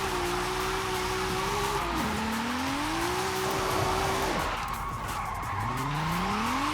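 Drifting car in Forza Horizon 5, a Nismo replica with a 2JZ engine swap, its engine whining in rising and falling tones over continuous loud tire skid and squeal throughout.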